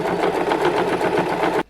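Electric sewing machine stitching a seam around the edges of a small cushion mattress, a steady, close, continuous whirring hum with a quick pulsing rhythm that stops abruptly at the end.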